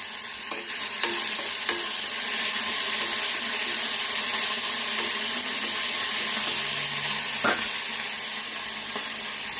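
Mustard seeds, cumin and curry leaves fry in hot oil with garlic paste, a constant close sizzle broken by occasional light pops and a spatula tap.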